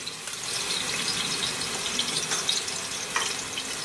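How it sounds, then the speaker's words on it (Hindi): Garlic ginger paste frying in half a cup of hot oil for mutton gravy, giving a steady, close sizzle that hisses continuously throughout. "इसको फ्राई करेंगे हल्का सा।"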